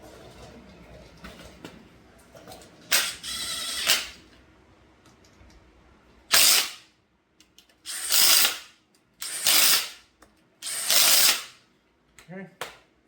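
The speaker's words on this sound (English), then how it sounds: "Need my torque wrench." A torque wrench ratchets on an LS engine during a cam swap for a 1970 Plymouth Satellite, in several short bursts of clicking separated by pauses, close and fairly loud, with brief speech near the start.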